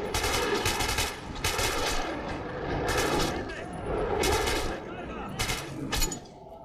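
Repeated bursts of gunfire against monsters in Metro 2033, several loud volleys separated by brief gaps, with background game noise between them.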